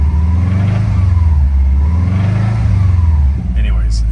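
A 2005 Subaru Forester XT engine, suspected to be nearing the need for a new motor, revs up and down in smooth swells with a steady, close, low-pitched drone throughout.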